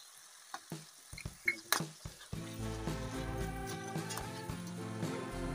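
Garlic paste, turmeric and spices hit hot oil in a pan for wheat flour uthappa, a few sharp clinks and taps giving way to a steady close sizzle with light stirring, no talk.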